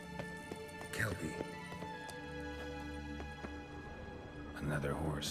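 Kelpie, Geralt's horse in The Witcher 3, clops along with scattered hoofbeats over a layer of soft game music.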